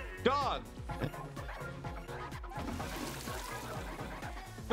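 A small dog yips and barks in quick, repeated bursts in ASTRO BOT, loud and close over a busy game soundtrack, with a voice shouting briefly at the start.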